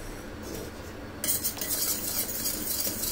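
A spoon stirring food colouring into a glass of mango candy sharbat, giving quiet scraping with a brighter clink and swirl that starts partway through and keeps going to the end, faint and close, with no talk.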